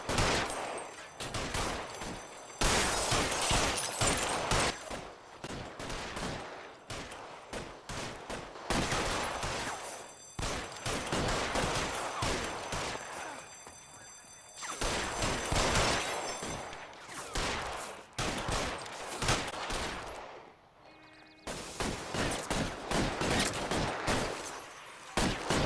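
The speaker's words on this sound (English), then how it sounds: "This is a big bad shootout" Heavy gunfire in a big shootout at a Hollywood post office in the L.A. Noire video game, with dense overlapping shots in loud repeated bursts separated by short lulls throughout.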